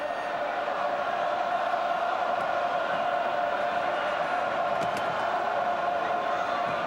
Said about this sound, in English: And isn't the crowd just humming?